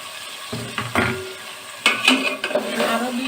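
Potatoes being sautéed in a cooked spice masala for alur dom, with a soft steady sizzle and several scraping stirs of a spoon against the pan, close and fairly quiet.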